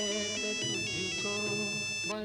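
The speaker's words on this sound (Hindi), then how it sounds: "रात को किसका फोन है?" A phone ringtone plays at night in a home. It is a loud, continuous melodic tune heard up close.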